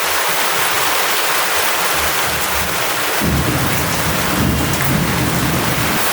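Heavy rain pours down in a thunderstorm, a dense loud roar of rain that swells heavier midway as low thunder rumbles in, with no voices.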